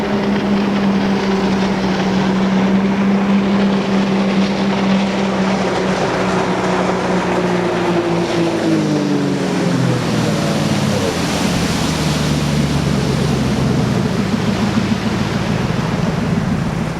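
Restored boat on its initial water test run on a cold, drizzly afternoon, its engine droning loud and steady with a harmonic whine that dips in pitch partway through as it moves, alongside water wash and wind noise.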